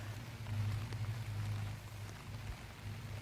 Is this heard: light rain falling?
yes